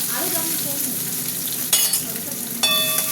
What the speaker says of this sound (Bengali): না না, পেঁয়াজ দিয়ে দিচ্ছি।